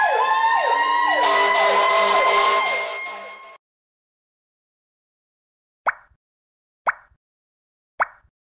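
A fire truck siren wails loudly in sweeping up-and-down tones for about three seconds, then cuts off, followed by silence and three short, evenly spaced popping clicks.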